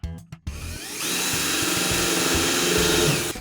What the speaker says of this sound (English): I'm making some plugs using a drill bit made just for the job